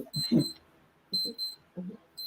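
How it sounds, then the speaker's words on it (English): An alarm clock goes off to signal that time is up. Its bright electronic beeps come in quick repeated bursts separated by short pauses, close and fairly quiet. "Alarm is telling me my time."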